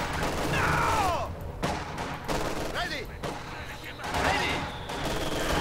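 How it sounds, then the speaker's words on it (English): Mortar and gunfire from a Company of Heroes 2 battle, with repeated loud bursts and impacts close by, mixed with whistling and sweeping effects, under an energetic commentator's voice. "mortar firing"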